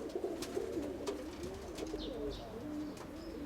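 Pigeon cooing: soft, low repeated coos in a murmuring sequence, fairly faint against background ambience with a few light chirps and clicks, no talk.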